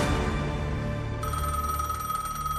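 A telephone rings in a true-crime documentary, a steady electronic ringing tone held loud and alone for under three seconds, with no talk.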